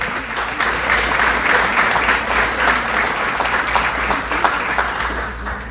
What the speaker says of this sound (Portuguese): Vamos recebê-lo com uma salva de palmas.